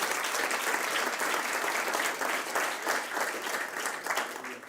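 Church congregation applauding loudly and steadily throughout, a dense, sustained clapping from a large audience with no speech over it.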